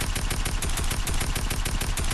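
Rapid automatic gunfire in Fortnite rattles in a fast, even stream of loud, close shots running without pause.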